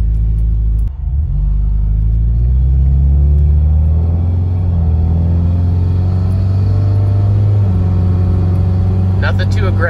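A Subaru with a quiet, subdued exhaust pulls away from a stop, a low steady engine drone rising gradually as it accelerates, heard from inside the car with road rumble underneath.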